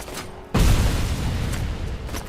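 A grenade blast in the RoboCop Mechanical Law video game hits suddenly as a loud, deep boom, then rumbles on with a sustained roar of debris and echo until the end.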